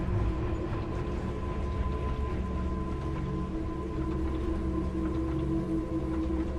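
A moving train in a video game gives off a low, steady rumble with faint rhythmic clatter, a continuous quiet drone without any voices.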